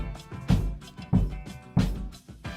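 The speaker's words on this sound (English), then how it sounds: "kick drum just sounds like this." Kick drum on a drum set with a cymbal pattern ticking above it, booming low beats landing steadily about every half second to second, close and alone.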